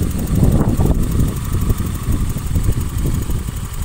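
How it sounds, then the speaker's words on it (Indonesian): A Honda Vario 150 scooter engine runs at a steady idle with a low, throbbing chug and a slight rev near the start, loud and close, with no talking. "untuk unitnya, tes suaranya. Nah, untuk suaranya sudah standar layaknya Honda Vario 150."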